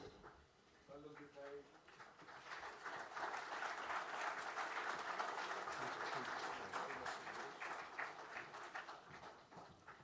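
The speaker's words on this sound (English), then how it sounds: "Let's have another big round of applause, ladies and gentlemen." After a brief voice, a crowd breaks into sustained, enthusiastic clapping that builds, holds, and slowly tapers.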